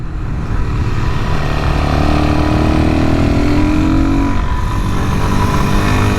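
A Suzuki DRZ400SM supermoto with an air box mod, engine running steadily while riding, a loud, continuous mid-pitched drone with wind noise and a slight rise in pitch partway through.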